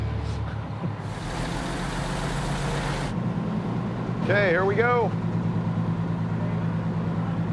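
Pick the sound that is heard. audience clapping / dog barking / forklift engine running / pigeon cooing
forklift engine running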